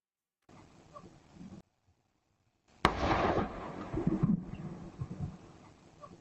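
Outdoors, one sharp loud crack is followed by a rumbling burst and scattered lower thuds, set against quieter ambient noise before it.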